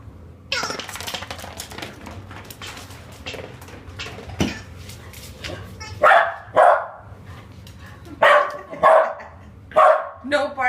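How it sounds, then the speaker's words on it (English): A puppy barks in sharp, high, repeated bursts, close by, in clusters of two or three barks, while a person talks to it in between. "No barking."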